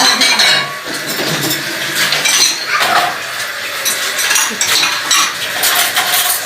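Dishes and cutlery clink and clatter repeatedly, as if being stacked and handled nearby, with a steady busy rhythm throughout.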